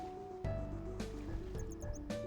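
Splashing into water in a Final Fantasy video game: a few soft, wet splashes and drips spread evenly over a couple of seconds, under steady background music.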